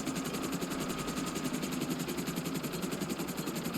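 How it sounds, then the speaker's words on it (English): Helicopter parked and idling outside on Cayo Perico in GTA Online, with a steady, loud, throbbing rotor and engine drone running continuously without a break. "We just parked the helicopter right outside."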